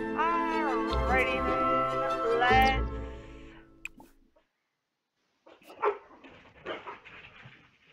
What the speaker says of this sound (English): I don't know what my dogs are going off about.